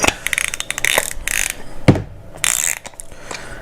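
A lock nut is run down onto an eye bolt in an electronics bay, giving rapid ratcheting clicks in bursts with short pauses, close and crisp.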